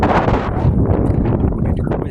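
Wind blows hard against an outdoor microphone, a loud, continuous rumbling buffet with gusty fluctuations, while a voice talks underneath.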